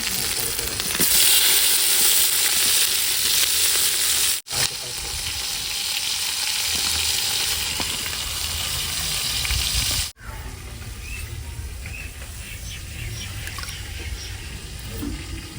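Tomatoes fry in a pan with a steady, loud sizzle and occasional stirring in a home kitchen, continuous throughout with no one speaking.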